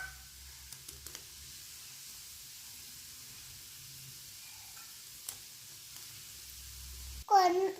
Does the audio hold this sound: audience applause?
no